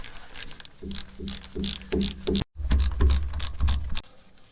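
A ratchet wrench clicks rapidly in short bursts as the rear differential cover bolts come out on a Suburban truck, with close, loud mechanical ratcheting, a brief pause, and no speech.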